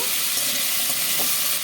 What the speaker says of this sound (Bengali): আলু লাল করে ভেজে নেব